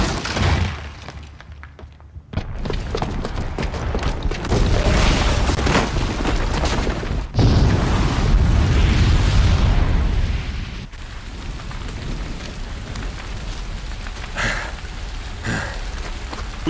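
In Horizon Zero Dawn, a falling blaze canister crashes and a bomb explodes, giving sudden loud booms followed by a long, dense crackling roar like heavy rain that gradually settles.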